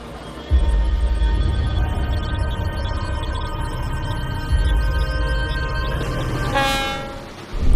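Mauritania's Train of Life rumbles past close by, a long, loud, steady roar of rolling wagons, with a horn blast sounding near the end.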